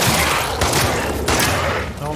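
Dense, rapid gunfire from a weapon in The Last of Us Part II, loud and close, with overlapping shots and a voice shouting over the burst.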